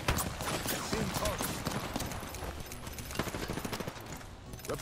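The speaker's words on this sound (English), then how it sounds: "That's still shooting at me, that's crazy." Rapid gunfire in the Apex Legends battle royale game crackles steadily through a busy firefight, with overlapping bursts and a voice talking over the shots.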